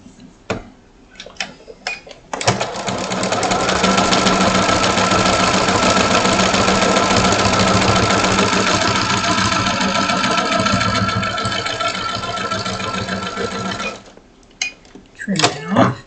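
A sewing machine stitches fabric in one long continuous run of fast mechanical rattle lasting about twelve seconds, starting and stopping abruptly, with quieter handling noises before and after.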